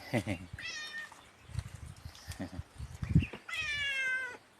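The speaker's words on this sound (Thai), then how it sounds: "แมวมาร้องเยก" A cat meows twice outdoors in cold, windy, rainy weather, two drawn-out harmonic cries a few seconds apart, with rustling, wind and a voice around them.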